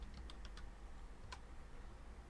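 A few light keystrokes on a computer keyboard enter a number, quiet close clicks: a quick cluster of three or four taps followed by a single tap after a short pause, over a low background hum.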